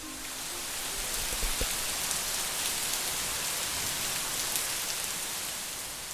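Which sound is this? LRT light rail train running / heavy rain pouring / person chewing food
heavy rain pouring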